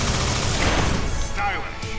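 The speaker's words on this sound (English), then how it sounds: "Here's the big one. Proton cannon." Iron Man's proton cannon fires in the fighting game Marvel vs Capcom Infinite, a dense, loud sustained blast with a rumbling low end and rapid crackling bursts.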